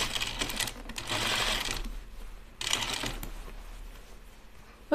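A sewing machine stitches fabric for a pair of slacks in short close bursts of rapid mechanical chatter, separated by pauses, with a faint steady motor hum underneath.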